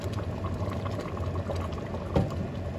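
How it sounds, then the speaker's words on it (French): Tomato sauce with seasoning and oil simmering in a pot, a soft steady bubbling and low gurgle close by, with one slightly louder pop near the end. "Et on laisse mijoter, on laisse cuire"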